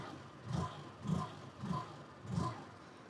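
A 2024 Hero Destini 125 scooter engine is revved four times in an even rhythm, each rise and fall of the engine sound clear and close, with no other sound over it.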